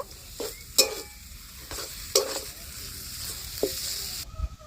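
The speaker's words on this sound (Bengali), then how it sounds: "ধনেপাতা কুচি দিয়ে একটুখানি নেড়ে নামিয়ে নেব" A spoon stirs spiced potato filling with chopped coriander in a pan, giving about five distinct, close scraping strokes over a low sizzle, with no talking.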